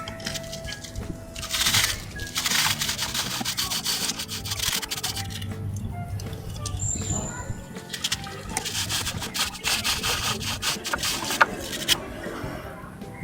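A brush scrubs a grimy bicycle chain soaked in kerosene, rapid close rubbing and scratching strokes in uneven bursts, with some background noise and brief birdlike coos.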